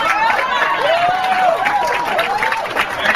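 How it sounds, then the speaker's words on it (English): A room of attendees at a Podcamp social media gathering in Western Massachusetts gives a round of applause, a dense steady patter of clapping with cheers and whoops rising over it across the whole stretch. "a round of applause for everyone this is their first Podcamp"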